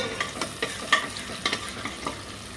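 Chicken pieces frying for fried rice, stirred with a spatula; a steady soft sizzle runs under repeated scraping clicks and clatters in a loose rhythm, close by and moderately loud, with no one speaking.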